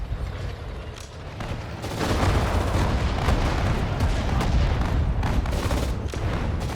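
Tank and anti-tank gun fire on a battlefield in Sudden Strike 4, a steady rumbling roar of distant artillery with scattered booms and gunshots over several seconds.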